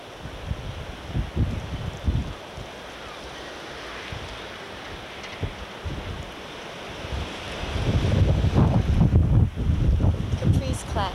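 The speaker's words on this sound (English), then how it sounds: "it's windy out here" Wind buffets a microphone outdoors in a steady broadband rumble, swelling into heavier, louder gusts over the last few seconds.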